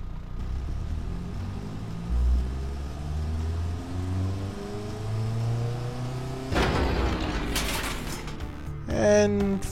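A car engine labours at very low RPM in a racing game, a deep droning rumble that rises and falls in pitch before a harsher burst of revving and clatter near the end.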